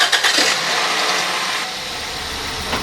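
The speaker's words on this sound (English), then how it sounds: "Let's start by warming the engine up so we get a full drain." A diesel engine turns over and settles into a steady warm-up idle with a light rattle, a continuous close drone with a brief start burst at the beginning.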